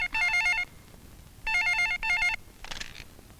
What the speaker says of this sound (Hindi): सबके फोन भी आने शुरू हो गए हैं।